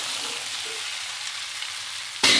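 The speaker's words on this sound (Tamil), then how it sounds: "இதை நம்ம கிண்டிக்குவோம்" Cut idli pieces tossed with podi and salt in a pan give a soft, steady sizzle and shuffle, ending in a sudden loud close scrape of the spoon against the pan, with no voices.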